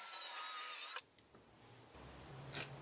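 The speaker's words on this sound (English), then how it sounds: "they can be quickly drilled and screwed together." A power drill runs loudly for about a second while driving screws through paired wooden boards for a farmer's market display stand, then cuts off abruptly, leaving a quiet room with faint knocks.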